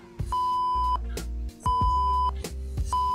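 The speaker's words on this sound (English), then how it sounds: "now it's not a harsh beep" A softened censor beep made in Premiere Pro sounds as a steady tone several times, with each beep lasting about half a second to a second, separated by short gaps, and a low hum underneath.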